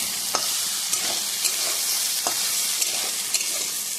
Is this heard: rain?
no